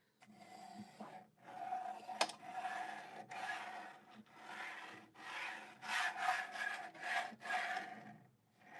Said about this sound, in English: All right, so the bed is scraped.